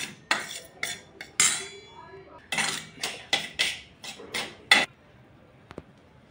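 A spoon scrapes and clinks against a pan while flour roasts in ghee over a low flame, in quick irregular strokes with short pauses, close and fairly loud with no talking.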